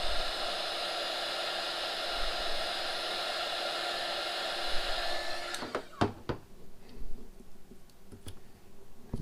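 A hair dryer blows steadily at close range, heating a price sticker, then cuts off, leaving a few sharp clicks and small scraping taps as the label is worked free.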